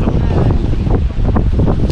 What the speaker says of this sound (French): Le vent s'est relevé, donc il fait un petit peu plus froid.